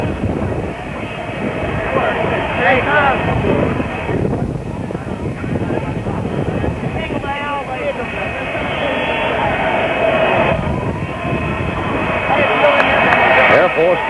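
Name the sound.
jet aircraft (Air Force One) arriving and landing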